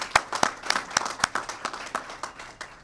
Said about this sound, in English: we must give them a big round of applause as well